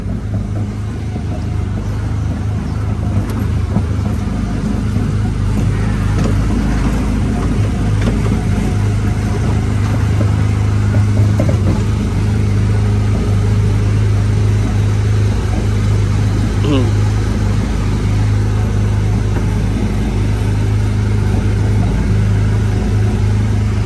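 Engine of a Disneyland ride car hums steadily and close throughout while it is driven, with faint rattles over a continuous low drone.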